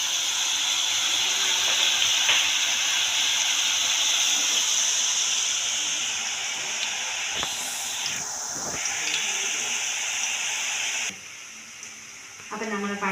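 Banana fritters (pazham pori) and onions fry in hot oil with a loud, continuous sizzling hiss, occasional stirring clatter, and a brief quieter dip near the end as the frying settles.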